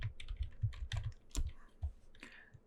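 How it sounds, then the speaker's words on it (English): Quick, light clicking of keys on a computer keyboard, heard close and fairly quiet in an irregular burst of keystrokes with no talking. "And now we are going to type in our text."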